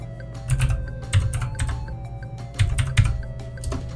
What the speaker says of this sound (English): just open up your command prompt window and type in ipconfig